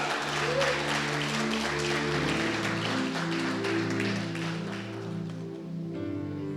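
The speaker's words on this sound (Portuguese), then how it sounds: "Aplauda mesmo." A church congregation applauds steadily with dense, continuous clapping over a low sustained musical tone, the sound slightly easing toward the end.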